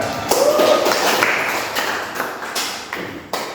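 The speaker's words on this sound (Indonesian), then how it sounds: "tepuk tangan untuk Gina" Classroom of students clapping for a classmate, a brief burst of scattered hand claps at moderate level that thins out with a few separate claps.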